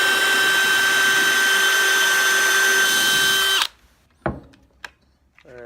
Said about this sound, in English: Got a 1/8 inch drill bit.